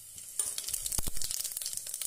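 Cumin seeds hitting hot cooking oil in a pressure cooker crackle into a sudden sizzle, close and steady, with a couple of sharp clinks of a spoon against metal.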